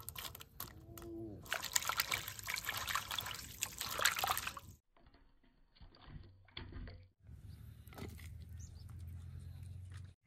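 Water splashes and trickles steadily while water hyacinth stalks are soaked and handled, a close, busy liquid sound that drops briefly quieter midway before resuming.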